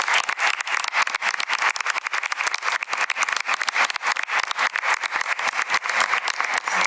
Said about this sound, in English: And please join me in a round of applause.